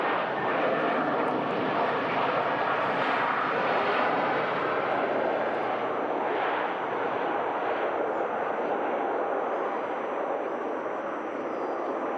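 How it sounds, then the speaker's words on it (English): Lufthansa Airbus A320-200 landing on arrival from Frankfurt at Manchester Airport, a continuous broad jet roar heard from a distance, steady and loud throughout with no speech. "Just about to touch down. Lufthansa, flight 942. It's an Airbus A320-200."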